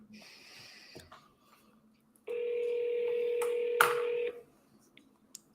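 A single steady telephone tone, likely a dial tone or dialing signal, rings out for about two seconds amid quiet room noise and faint clicks, with no talking over it.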